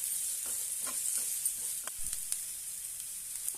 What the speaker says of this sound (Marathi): आता यामध्ये एक कांदा बारीक कट केलेला आहे तो घालूया। आणि तो पण छानपैकी परतून घेऊया।